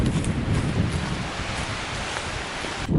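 Steady wind rushing through thick secondary bush along a mountain track on a North Island ranges hike, a continuous broadband roar with gusty low-end buffeting throughout.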